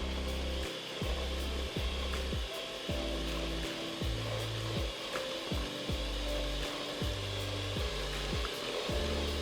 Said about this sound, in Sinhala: මේක මම තව ටිකක් බීට් කරගන්නවා.